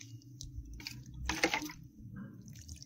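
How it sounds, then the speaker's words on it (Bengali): Water pours into a potted bougainvillea for a short burst, a close splashing gush in the middle framed by softer drips and trickles into the soil. "এবারে গাছে ভরপুর জল দিতে হবে।"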